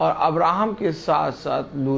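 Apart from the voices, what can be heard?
None of the usual background noises is heard.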